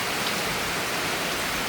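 Steady, heavy rain pours down at a rural school, a dense even hiss that does not let up, with no voices.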